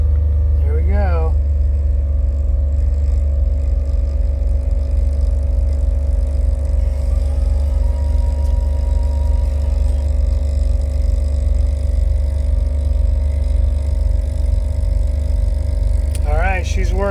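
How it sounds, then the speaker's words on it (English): A Jeep's onboard air compressor pump, fitted to a 2006 LJ Rubicon, runs loud and steady with a fast rhythmic pulsing drone that holds throughout, while a brief warbling tone sounds near the start and the end. "Turn on the air compressor. And I should see the pump."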